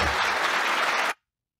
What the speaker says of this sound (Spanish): Y esta mujer está aplaudiendo.